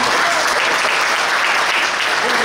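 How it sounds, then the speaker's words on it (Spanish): Continuous crowd clapping at a health-sector swearing-in ceremony, loud and even throughout with no break, a thick unbroken wash of hands from a gathered audience. "Pues por ahora sí el aplauso"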